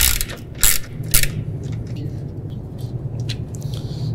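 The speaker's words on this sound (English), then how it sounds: "we'll go ahead and grab our ratchet and our 10mm socket and start taking loose" A ratchet with a 10mm socket loosening old bolts on a John Deere Gator 835/865 during a headlight install, heard as a few sharp clicking bursts early on, then quieter intermittent ratcheting and mechanical creaks, close up.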